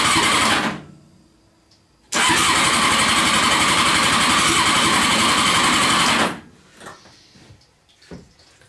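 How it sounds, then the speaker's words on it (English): A Honda CBR 600 engine with a bad head gasket, throttle held wide open, cranks on the starter during a compression test: a short burst, a pause, then about four seconds of loud, fast rhythmic churning that stops abruptly, followed by faint clicks. "we can finally check to see if we have good compression on this engine"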